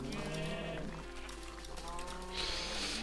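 Sheep bleat in a Minecraft farm scene, several overlapping game bleats filling the short stretch at steady loudness, with background game sounds and no talk.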